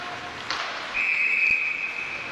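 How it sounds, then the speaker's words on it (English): A referee's whistle at an ice hockey game sounds one sharp, sustained shrill blast lasting over a second, over the steady murmur and rink noise of an arena crowd. "Whistle blows."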